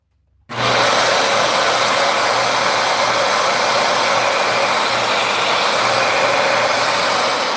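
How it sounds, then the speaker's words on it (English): A Dyson UP19 upright vacuum cleaner with a replaced head switches on after brief silence and runs with a loud, steady whooshing roar and low motor hum, close by with no talk. "Let's see if this head"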